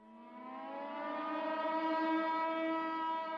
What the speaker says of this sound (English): really terrifying sirens, alarms coming from Damascus.